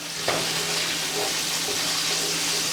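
Lamb shoulder chops sauté in olive oil in a pan, giving a steady, close sizzle and crackle that runs the whole time with no talk over it.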